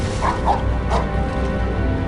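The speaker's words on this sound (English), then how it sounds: "That sounded like a dog." A dog barks from a Harry Potter and the Prisoner of Azkaban scene, a few muffled yips over a dense, noisy film soundtrack with no talking.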